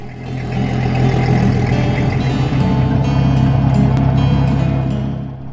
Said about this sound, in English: Now it was time to start the engine and see if all systems were functioning properly.